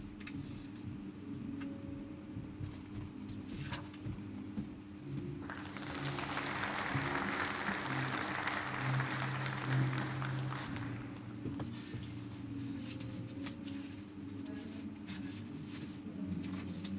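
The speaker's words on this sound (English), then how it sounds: "Thank you very much for joining me in a big round of applause" Audience applause at an award ceremony in a hall, a steady wash of clapping that swells in the middle and then settles, somewhat distant.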